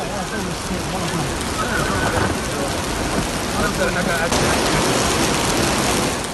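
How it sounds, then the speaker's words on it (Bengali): Dense, steady roar of heavy rain pouring down at the Prophet's Mosque in Medina during flooding, continuous and loud throughout, with faint indistinct voices buried beneath. "মসজিদে নববীতেও অঝরে ঝরছে বৃষ্টি"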